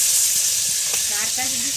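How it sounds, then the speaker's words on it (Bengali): Fish fries in hot oil with a steady, bright sizzle and hiss that runs throughout, fairly close, while a voice briefly talks over it. "আর এখনো চলছে মাছ ভাজা।"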